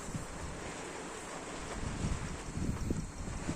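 Strong outdoor wind buffets the microphone in low, irregular gusts, producing a rough, rumbling roar with no voices.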